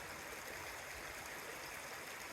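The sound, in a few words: creek water flowing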